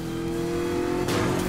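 McLaren engine revving in Need for Speed Most Wanted (2012), a loud sustained tone that climbs with a sharp burst of acceleration near the end.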